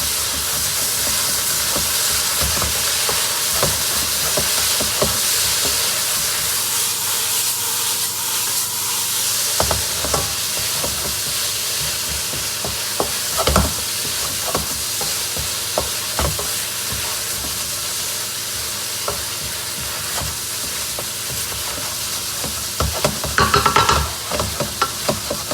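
Shaoxing wine splashed into a hot wok of stir-fried chicken hearts hisses and sizzles steadily at close range, with occasional clatters of stirring and bursts of steam throughout.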